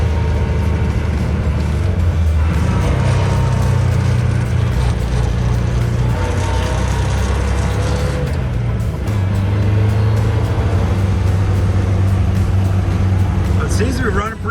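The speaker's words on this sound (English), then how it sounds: "makes some humming noise in first gear" An abandoned car driven in first gear gives off a loud, close, steady transmission hum blended with engine drone that rises and dips in waves, with a voice talking over it.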